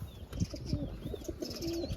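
Pigeons kept in a loft, including a chocolate-brown bird, coo in soft repeated low notes, with faint chirps and rustling around them.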